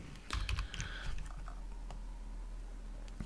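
A few quick keystrokes on a computer keyboard entering a short command for a FreeBSD virtual machine setup, faint and close, with a low hum underneath.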